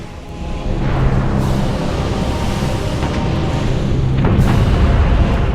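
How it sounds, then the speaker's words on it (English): A huge nuclear-style explosion in the final cutscene of the video game MediEvil sounds as a heavy, sustained rumbling roar that swells and persists with no talk over it. "Ooh, big nuclear explosion."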